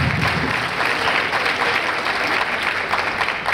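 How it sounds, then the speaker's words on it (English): A school audience at an academy event applauds a jazz band and the cast of The Color Purple, continuous full clapping that holds steadily throughout. "Let's give the jazz band and the Color Purple cast another round of applause"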